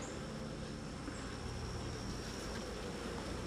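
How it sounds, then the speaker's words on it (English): A dense, steady buzz of many honey bees inside a hive full of honey fills the space, constant and close, with no voices. "There's a lot of bees in here and a lot of honey."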